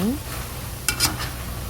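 Steady, close sizzling of red sausages deep-frying in hot oil, with a couple of brief metallic clinks from stirring utensils.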